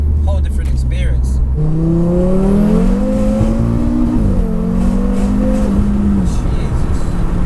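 A 700 bhp all-wheel-drive Audi RS3 accelerates hard. Its loud engine note climbs steadily in pitch, breaks briefly at a gear change, then climbs again as the car pulls close and continuous.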